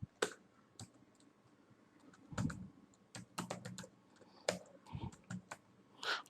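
Close, quiet typing on a computer keyboard, with irregular bursts of key clicks and pauses, ending in heavier keystrokes like an enter press.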